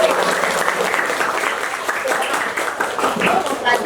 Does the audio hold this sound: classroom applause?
yes